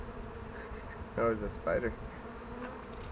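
Bees buzz steadily during a backyard beehive inspection on a summer day, a continuous insect drone running under brief talking from people nearby.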